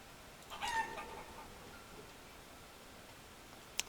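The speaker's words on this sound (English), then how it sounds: "Chicken coop is starting to get a lot of chickens." A chicken clucks briefly in a village chicken coop in the game Forest Village, a short, soft cluck burst early on, then quiet ambience with a faint click near the end.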